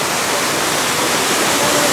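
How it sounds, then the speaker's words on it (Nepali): A loud, continuous rush of stream water flowing through a mountain river east of the Chinnamasta temple in Barahakshetra, Chatara, steady and close with no voices. "हामी बराक्षेत्रको छिन्नमस्ता मन्दिरदेखि पूर्वपट्टि रहेको खोलामा छौँ"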